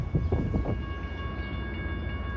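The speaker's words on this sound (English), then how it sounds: "Leaving the yard tracks, the train will pull slowly at no more than 10 miles per hour until clear and on the main line." Union Pacific freight train pulling slowly out of yard tracks, a low rumble with faint steady tonal whine, some heavier thumps at the start, heard from a moderate distance.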